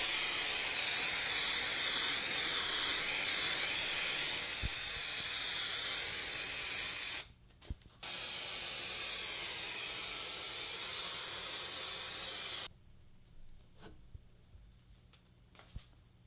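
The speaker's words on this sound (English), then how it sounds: "Time to spray glue this to the backing and keep going." A steady, loud hiss from an aerosol can of spray adhesive, used to glue a tufted rug to its backing, runs for several seconds, stops briefly, then continues before cutting off to near silence.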